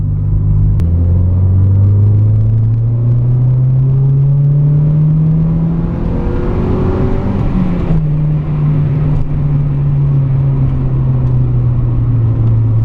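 A Mazda MX-5 Miata MK2.5 with a limited-slip differential revs loudly while driving on the road, its engine note climbing steadily, dipping briefly at a gear change, then holding a sustained drone.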